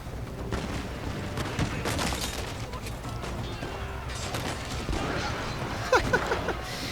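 Matchlock volleys in Total War Shogun 2, scattered crackling shots overlapping in a continuous battle din, moderately loud with a few sharper reports near the end.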